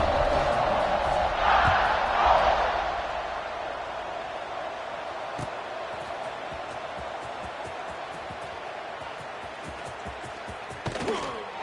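Football stadium crowd noise, a broad roar that swells early then holds steady at a loud, sustained level, with scattered shouts and a brief burst near the end.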